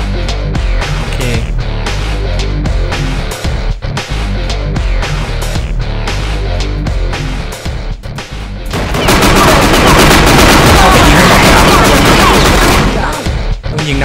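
Dense gunfire in the crime game Gangland as dancers in a club are shot, with rapid bursts over a loud backdrop that swells into a continuous, heavier barrage in the second half.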